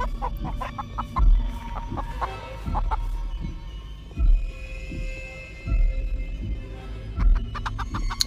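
A chicken clucks repeatedly in a video game, loud bursts of fowl calls with a rooster-like crow over steady background game music.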